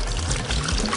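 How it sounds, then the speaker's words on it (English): Warm water is poured over salted lemons in a jar to preserve them, a steady close splashing and gurgling pour that runs continuously at full strength, with no voices. "And you cover it with warm water."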